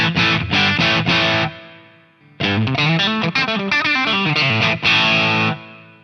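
Electric guitar played through a multi-effect unit with distortion, reverb and delay: loud chugging chords, a brief decaying tail, then a busier run of notes and a final sustained chord.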